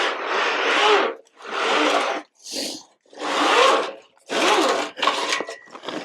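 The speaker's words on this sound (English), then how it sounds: "this awning fabric out. And then it's just going to slide out." Old Solera RV awning fabric being pulled along its rail, a series of loud rasping, rubbing slides of about a second each with short gaps between them, close up and with no talk.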